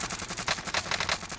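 Rapid automatic gunfire in Call of Duty: Warzone, a dense run of sharp, close shots in quick succession with no pauses.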